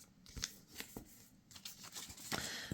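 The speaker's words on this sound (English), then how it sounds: "I'm going to fold this one in half, and then I'm going to fold it back on itself again." Paper sheets creased and folded while making a handmade accordion-fold hardback book, a run of close, soft crackling rustles and brisk swishes with no voice.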